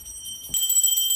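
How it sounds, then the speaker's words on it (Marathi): A digital device rings a puja bell for a Ganesh Chaturthi installation at home in the USA. The bright, steady electronic bell tone starts suddenly after a near-silent moment and keeps ringing loudly. "एक डिजिटल आहे जे बेल वाजवणार आहे"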